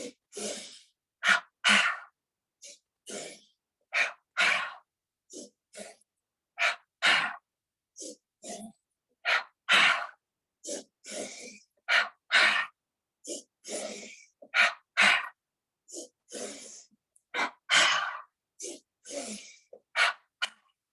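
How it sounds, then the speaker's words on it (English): Yoga breathing with a double inhale followed by a double exhale, repeated in a steady rhythm: paired short nasal sniffs and breathy pushes of air, close and clear, with no speech over them. "double inhale, double exhale"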